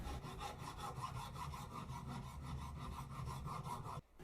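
Steady rhythmic rasping of a hand file stroking back and forth across a wooden knife handle held in a vise, quiet and close, then stopping abruptly near the end.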